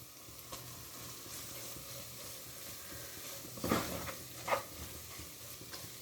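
Grated carrot halwa roasting in ghee, with a soft, steady sizzle and a couple of distinct spoon scrapes and clinks against the pan partway through, fairly quiet and with no talk.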